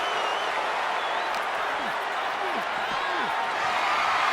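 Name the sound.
wrestling arena crowd cheering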